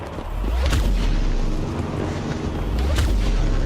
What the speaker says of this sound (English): having her just sit there and fire the cannon, fire the cannon